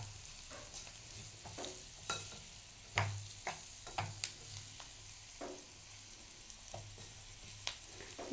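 Cut green chillies fry in a pan, a soft steady sizzle under repeated scraping and clinking stirs of a spoon against the pan, some louder than others.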